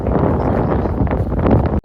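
Strong sea wind buffets the microphone in a steady, loud roar on a fishing boat, cutting out briefly near the end.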